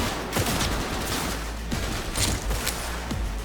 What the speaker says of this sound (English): Yep, straight up firefight.